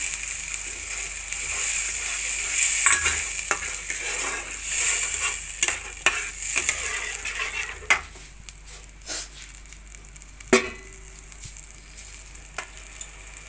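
Spice-rinse water hits a hot pan for doi potol, sending up a loud hissing sizzle that gradually fades, followed by scattered metallic clinks and scrapes of a spoon stirring, close with no voices.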